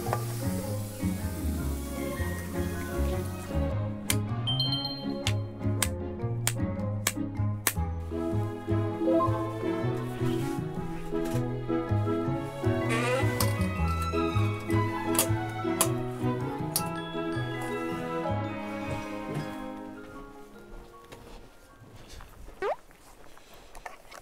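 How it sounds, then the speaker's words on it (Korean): Dishes are washed outdoors at a campsite in warm water: steady running and splashing water with clinks and clatter of dishware, continuing for a long stretch before fading near the end. "그럼 우리 설거지를 같이 가서 해볼까?"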